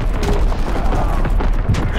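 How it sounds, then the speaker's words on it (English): Artillery shells bursting over a World War II battlefield in the game Call of Duty: WW2, a dense unbroken barrage of rumbling blasts and crackling gunfire with voices calling out beneath the din. "Incoming enemy artillery! Get to cover!"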